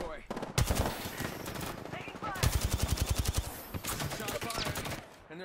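Rapid automatic gunfire in a shooter video game, striking the player's character in bursts of fast repeated shots, loud and close, with brief pauses between volleys and game effects around them.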